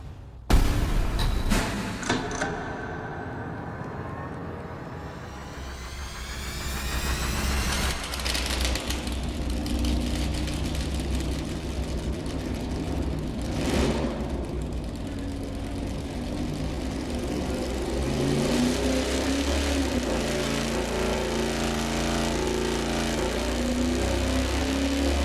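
An iron-head Mopar 440 V8 with a 106-degree lobe separation camshaft fires up on an engine dyno and keeps running with a loud, steady drone that builds and holds for the whole stretch, with no talking.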